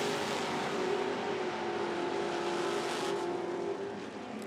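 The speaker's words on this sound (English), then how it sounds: "whopping the throttle on that 66 at the other end" A 1966 Ford Fairlane nitro drag car at an IHRA Outlaw Nitro event revs hard with a loud, sustained engine roar that tapers slightly at the end.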